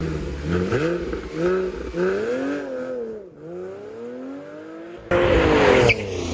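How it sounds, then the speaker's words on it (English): A 2010 Porsche 911 Carrera S accelerates hard from 0 to 60, its engine climbing through gears with brief dips at each shift, then a loud burst of road and wind noise near the end. "here's my dad's 2010 911 Carrera S doing the 0 to 60 test"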